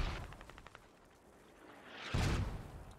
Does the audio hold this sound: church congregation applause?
no